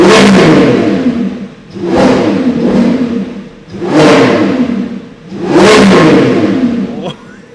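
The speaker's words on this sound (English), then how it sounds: "with Corsa we will be now revving the Revuelto for the first time ever" A 2024 Lamborghini Revuelto V12 revs in Corsa mode, rising in four loud bursts that each climb and fall back, with a faint voice underneath.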